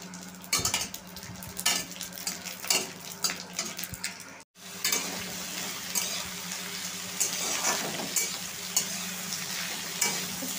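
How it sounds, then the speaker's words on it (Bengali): Dried red chilies and radhuni spice frying in hot oil as a tempering for dal: a steady sizzle with repeated stirring and clinks of a spoon against the pan, a brief pause, then a fuller continuous sizzle. "ডালের জন্য ফোড়নে শুকনো লঙ্কা দিলাম, আর দেবো হচ্ছে রাঁধুনি ফোড়ন।"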